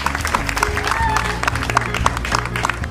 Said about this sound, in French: Je voudrais que vous vous fassiez déjà une bonne salve d'applaudissements pour nous tous.